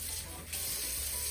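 Running water from a tap rinses a brown dog during a bath, a steady close hiss of flowing water with a slight shift partway through, over a very brief stretch.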